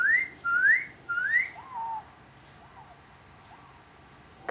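A person whistles close by, imitating a kiwi parent bird calling to a hatching chick: three short rising whistled calls, then three softer falling ones, with quiet pauses between.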